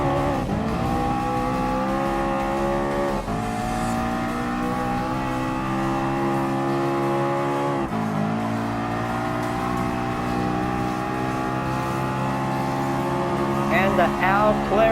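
A McLaren MP4-12C race car in Gran Turismo Sport drives with a sustained, close engine drone. Its pitch climbs through the gears, with brief dips at the shifts and a wavering rev toward the end.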